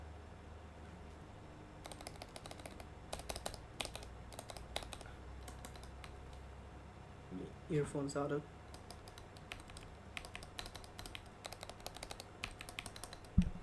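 Typing on a serviced mechanical keyboard with its keycaps and long keys reinstalled: bursts of quick, crisp key clacks, moderately close, with a brief spoken phrase and a low steady hum underneath.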